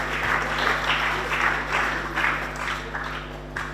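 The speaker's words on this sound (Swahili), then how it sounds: "Makofi kwa golfers tafadhali." An audience applauds golfers at a TANAPA Lugalo Open award ceremony, a steady wash of many hands clapping at moderate distance with room hum underneath, continuing without talk.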